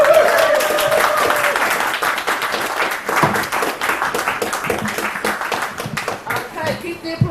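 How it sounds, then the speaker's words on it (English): Applause from the audience at a Halloween poetry night, dense, steady clapping that carries through the whole stretch with a few voices and cheers mixed in. "keep the applause going"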